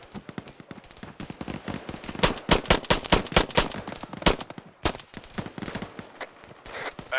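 Machine gun fire in the military video game Arma 3, rapid bursts of sharp automatic shots, some close and loud, others more distant, with short pauses between volleys.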